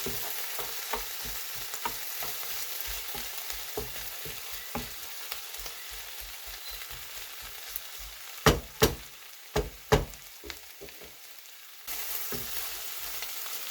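A Spanish tortilla cooks in a pan over medium heat, giving a steady, soft sizzle throughout, broken near the end by a few sharp taps and clicks of a utensil against the pan.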